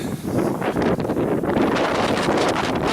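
Cold wind at about -10 degrees blows hard across an icy outdoor spot, a loud, continuous rushing roar buffeting the microphone in gusts, with no voices.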